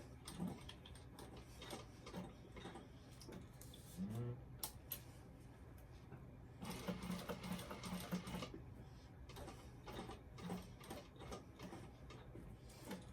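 A sewing machine fitted with a walking foot stitches a vinyl bag, running in short bursts of rapid mechanical ticking and whirring with brief pauses between runs, fairly quiet and close.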